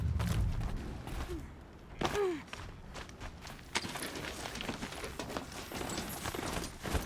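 Heavy clip-clop hoofbeats of a huge rhino-like behemoth creature in a video game, steady plodding footfalls close up over busy game ambience and effects.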